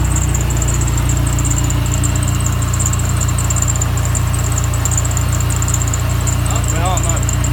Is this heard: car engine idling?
yes